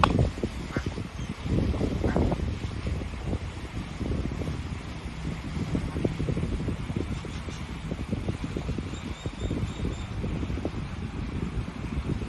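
Ducks outdoors in the Coachella Valley, a continuous stream of honking, quacking calls in rapid irregular bursts over steady wind noise on the microphone.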